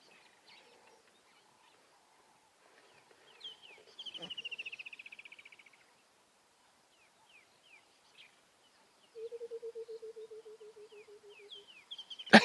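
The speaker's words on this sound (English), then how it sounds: "Birchall's cuckoo, the rainbird." A Burchell's coucal calls twice on an African safari morning: long, bubbling descending runs of notes, the first higher and the second lower and clearer, with faint birdsong and soft background sounds between.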